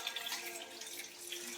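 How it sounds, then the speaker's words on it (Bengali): Tap water runs steadily over raw meat being washed in a sink, a faint, soft splashing stream with no talking. "মাংসটাকে ভালো করে ধুয়ে দিই"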